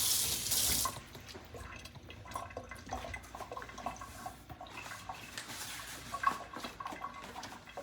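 Fresh curry leaves rinsed under a running kitchen tap, a steady close splash of water with small drips and rustles, no voices.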